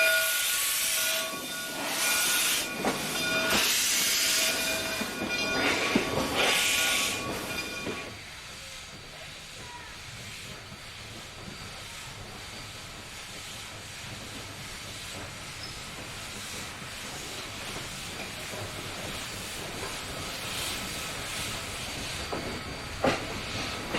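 Steam locomotive number 401 at the Monticello Railway Museum hisses loudly with steam bursts and a whistle-like tone early on, then settles into a steadier, quieter rumbling hiss that continues to the end.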